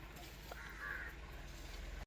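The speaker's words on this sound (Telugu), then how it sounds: "కాకి ఇష్టం లేదనుకుంటా, ఇందా నుంచి అరుస్తూనే ఉంది" A crow gives a single short caw, thin and fairly distant, over a steady hiss of background noise.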